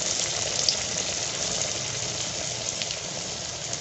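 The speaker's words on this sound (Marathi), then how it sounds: "बघा, आता हे तळायला लागलेत वडे आणि किती सुंदर रंग आलेला आहे." Medu vada fry in hot oil as a continuous, dense bubbling sizzle that holds steady and fairly loud throughout, with no talking.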